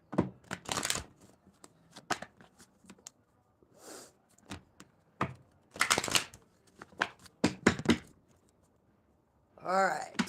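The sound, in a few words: shuffling tarot cards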